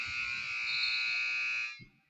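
A loud electronic buzzer ends the half at a girls' high school basketball game, blaring in a single steady tone for nearly two seconds, then cuts off, leaving faint crowd noise.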